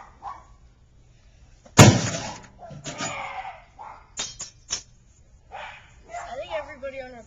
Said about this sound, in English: I think everybody on our block has dogs.